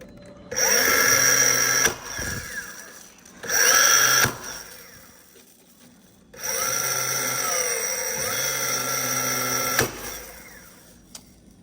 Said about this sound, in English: I'm just gonna sink some additional nails right in there